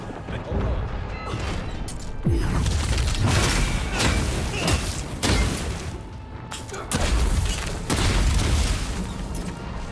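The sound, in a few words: shock grenade explosions, from video game Avowed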